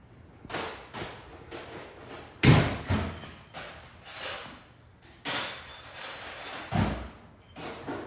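Hammer blows driving a punch on a Land Rover 88-inch gearbox ring out in a series of about eight sharp metallic strikes spaced roughly a second apart, close and fairly loud in a workshop.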